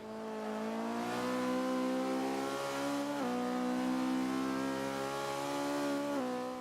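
A Caterham R500 engine in Forza 5 revs hard in a steady high-pitched drone that climbs through the gears, with short dips at each shift, loud and continuous.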